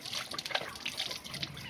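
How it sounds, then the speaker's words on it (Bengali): An animal laps water, making quick wet splashing and trickling sounds up close in a brief, busy burst. "কত জল খাচ্ছে, হাঁপিয়ে গেছে"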